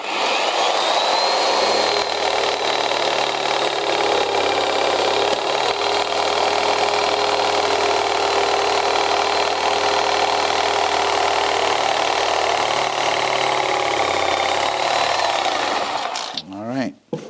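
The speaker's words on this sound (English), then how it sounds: "I'm just using a jigsaw because that stuff cuts pretty easy." A jigsaw cuts grooves into cellular concrete blocks during an old house restoration, giving a loud, steady buzzing whine that runs almost without pause before stopping near the end.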